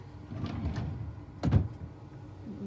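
A storage drawer in a stitching and library room slides open with a short, close scraping rattle, followed by a brief thud and quiet handling noises.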